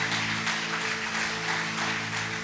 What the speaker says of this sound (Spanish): ¿Puede darle un aplauso al Señor?